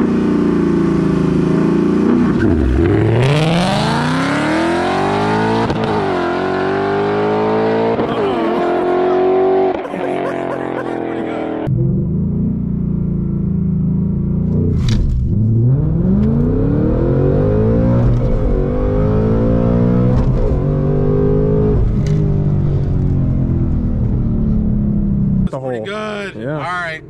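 A Ford Mustang Dark Horse accelerates hard in a race, its engine roaring loudly through repeated rising sweeps and gear shifts across the run, with voices talking over it.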